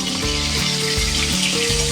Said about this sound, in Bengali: হাই ফ্লেমে মটরশুঁটি আর ফুলকপি দুটো একসাথে একটু ভেজে নেব